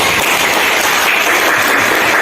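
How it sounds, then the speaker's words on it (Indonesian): Dense, steady clapping from a group fills the whole moment, loud and continuous with no pauses. "Tepuk tangan semuanya."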